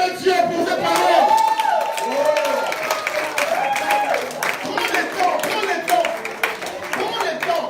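A church congregation claps and applauds during a sermon, a dense, sustained wash of hands that stays loud throughout, with cheering voices and shouts mixed in.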